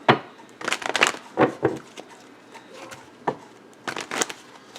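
Tarot cards being shuffled in several quick bursts of riffling and crackling, with brief quiet gaps between them, close up and fairly loud.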